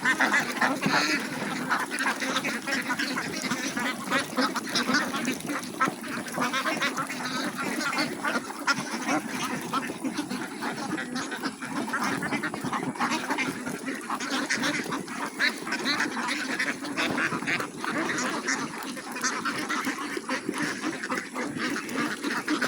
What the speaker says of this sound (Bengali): আমরা দেখতে পাচ্ছি হাঁস অনেক চমৎকারভাবে খেয়ে নিচ্ছে।